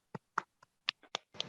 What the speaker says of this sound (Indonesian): Kita beri aplaus dulu untuk kelompok 3.